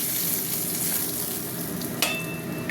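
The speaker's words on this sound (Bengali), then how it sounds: "এই মাছগুলো ভাজা হয়ে গেছে তুলে নিচ্ছি" Fish and eggplant pieces frying in hot oil in a pan, giving a steady dense sizzle throughout with a brief clatter near the end.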